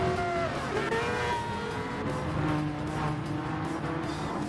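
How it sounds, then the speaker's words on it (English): The Mazda 787B race car in Gran Turismo 7 screams along at speed, its engine tone sliding up and down through gear changes beneath faint tire noise, moderately quiet and continuous. "I do love the 787B because you can just tell a freaking distinction whenever you hear that car."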